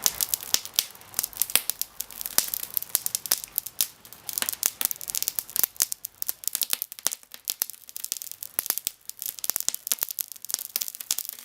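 Skin being ripped off cast-iron game hens cooked on a Weber grill, a close, dense run of wet tearing and crinkling crackles that keeps going without a break and with no talking.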